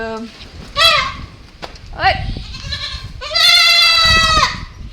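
Goats on a farm bleat several times in loud, wavering calls at close range, one long cry near the end, with children's voices and other people in the background.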